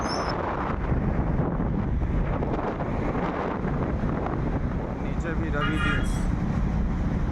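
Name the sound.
wind noise while riding a motorcycle on the highway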